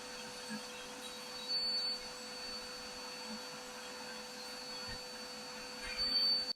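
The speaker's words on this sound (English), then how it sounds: "So I'm going to turn on the vacuum" A vacuum cleaner fitted with a brush attachment cleans lint from a dryer vent, a faint steady motor hum running throughout with a couple of brief higher-pitched bursts.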